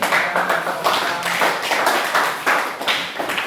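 A small classroom group claps for the first group of students as they come forward to present, with uneven, distinct hand claps pulsing in loose bursts at moderate volume close by.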